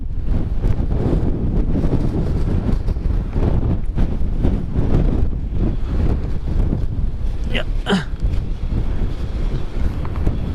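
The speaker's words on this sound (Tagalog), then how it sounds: "Malakas yung hangin mga ka-take care" Strong wind buffets a motorcycle on a dangerous mountain road, a heavy, constant, gusting rumble against the microphone, with a brief voice cutting through near the end.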